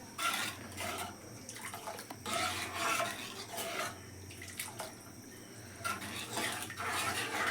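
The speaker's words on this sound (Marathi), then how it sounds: "ही आपण ढवळतच राहूची असा." Kulith pithi, a Konkani horse gram gravy, being stirred in a pot, with repeated rasping scrapes of a spoon against the pot in bursts of rubbing and short pauses, close and fairly loud.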